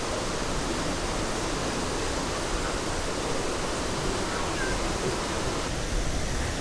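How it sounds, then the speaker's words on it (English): Steady roar of a waterfall on the Ingleton Waterfalls Trail, a continuous broadband rush of falling water heard close and loud with no talking. "But we found a waterfall."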